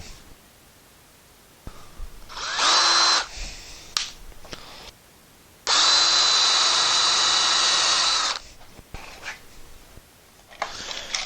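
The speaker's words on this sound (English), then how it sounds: "I'm going to add in 3 screws. And I'm going to use a countersink bit." A power drill fitted with a countersink bit drives into wood for screw holes, in two loud whirring bursts separated by quieter handling noise and short clicks, close up with no talking.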